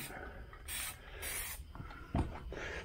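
Short spray-gun bursts hiss close up as coats go onto car door panels for a 1977 Malibu Classic, several separate passes with pauses between them and no talk.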